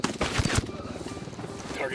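A sniper rifle fires in the video game Ghost Recon Wildlands, with a couple of sharp, loud shots up close followed by a rumbling echo and quieter game ambience.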